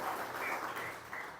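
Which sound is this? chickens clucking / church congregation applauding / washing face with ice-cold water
church congregation applauding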